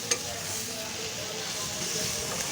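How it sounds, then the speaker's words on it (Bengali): Green bananas fry with browned onions in a pan, giving a steady, close sizzle with a light stirring scrape near the start. "পেঁয়াজ লাল করে এখন আমি কলাগুলোকে দিয়ে ভালো করে একটু ভেজে নেব"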